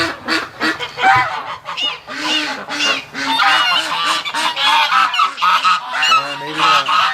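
Wintering ducks on a brisk -14°C morning honk nonstop at close range, with loud, overlapping calls forming a dense, continuous chorus.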